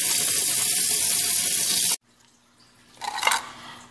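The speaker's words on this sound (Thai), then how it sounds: "ล้างต้องล้างน้ำเย็นเด้อห้ามล้างน้ำร้อนเด็ดขาดทุกขั้นตอน" Fish rinsed under a cold running tap for sour fermented fish: a steady loud rush of water for two seconds cuts off abruptly, then a brief splashing swell of water handling follows.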